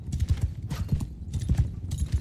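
Horse archers riding in Mount & Blade 2: Bannerlord, a steady rapid clip-clop of many hooves close by, drumming in uneven overlapping rhythm with scattered higher noise bursts.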